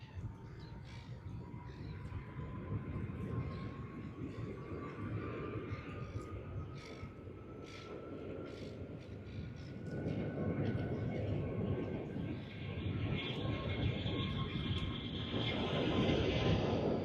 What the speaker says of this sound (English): the takeoff roll for TG476 Thai Airways Airbus A350 service to Bangkok has begun